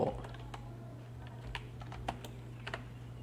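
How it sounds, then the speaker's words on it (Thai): Keys clatter on a computer keyboard in short irregular bursts while someone types a search into the Chrome Web Store, fairly close and light over a steady low hum. "แล้วก็ให้เราพิมพ์คาว่า ออโต้"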